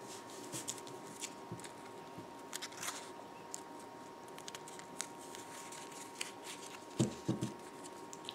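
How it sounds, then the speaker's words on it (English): Paper is creased and folded for a DIY origami snowman ornament, with soft rustles and small crisp taps at close range, then a brief louder crinkle near the end, over a faint steady hum. "Now what we're going to do is we're going to fold inwards."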